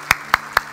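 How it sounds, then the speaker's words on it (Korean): Three sharp claps spaced evenly about a quarter second apart, close and fairly loud, from a church congregation welcoming a new accompanist at a Sunday worship service. "뜨거운 박수로 환영하도록 하겠습니다"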